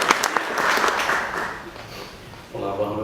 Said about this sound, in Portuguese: Um aplauso para a nossa amiga